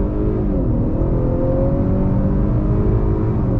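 A 2021 Honda Accord 2.0T turbo engine accelerates under throttle through a 10-speed automatic, giving a steady loud cabin drone with a rising whine and no speech.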